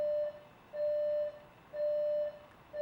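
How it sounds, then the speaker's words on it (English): An alarm clock rings from another room in a house, a steady repeating electronic beep in evenly spaced bursts with short gaps, moderately faint and alone. "I think it's an alarm going off"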